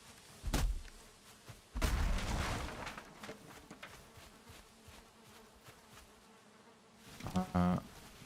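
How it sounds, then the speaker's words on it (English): Bees buzz in the Valheim video game, a soft, steady insect drone heard faintly under a couple of thuds and scattered game noises. "I can actually hear some bees in there."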